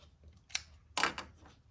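Scissors trimming quilt fabric pieces: two quick, close snips, the second louder and followed by a short rustle, with quiet pauses around them.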